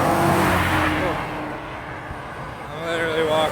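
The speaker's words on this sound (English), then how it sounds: "All the cars, it's loud." Cars passing on a road right beside someone walking, loud whooshing traffic that swells, fades, then rises again as another vehicle approaches.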